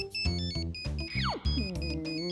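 A mobile phone rings with a loud, repeating melodic tone in evenly spaced bursts, one note sweeping downward midway, with no talk over it.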